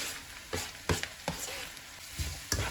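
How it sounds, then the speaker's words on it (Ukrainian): Onion and carrot frying in a pan are stirred, giving a soft sizzle broken by about five separate scraping strokes of the spoon, near and moderately loud, with no one talking. "Все гарненько перемішую"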